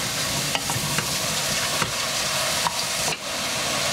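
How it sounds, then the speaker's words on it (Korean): Mushrooms and onions sauté in butter in a pan, making a steady close sizzle with scattered pops and the scrape of stirring, and no one speaks. "버터에 버섯과 양파를 볶아주세요."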